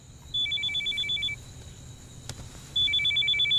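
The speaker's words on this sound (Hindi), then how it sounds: "सारा का फोन है।" A telephone rings with an electronic trilling ring in two bursts separated by a pause, at moderate volume over a faint background hum, with no talk.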